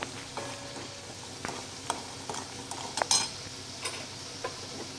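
Chutney roasts in oil in a pan over a low flame for homemade zunka, with a soft steady sizzle broken by scattered clicks and spatula scrapes, no one speaking.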